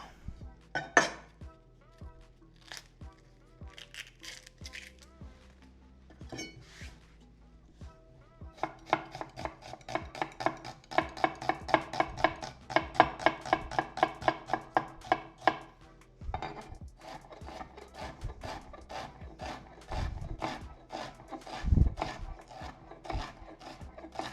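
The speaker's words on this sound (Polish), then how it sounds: "Obieram i siekam bardzo drobno." Half an onion is peeled, then finely chopped with a knife on a board: scattered taps and rustles at first, then a long run of rapid, even chopping strokes, close and crisp, ending in a few slower cuts.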